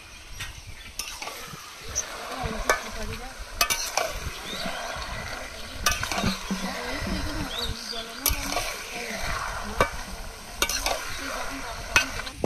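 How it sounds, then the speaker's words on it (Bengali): Goat meat is stir-fried at length in a kadai over a wood fire, giving a steady close sizzle with repeated scraping strokes and occasional sharp clinks of the spoon against the pan, with no talking. "এবার মাংসটা অনেকক্ষণ ধরে কষিয়ে নেব।"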